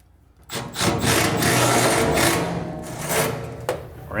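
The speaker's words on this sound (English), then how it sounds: "First, we put the other screws in." A power driver runs screws into a large garage storage cabinet, giving one long, loud whirring and grinding burst that fades near the end, followed by a short click.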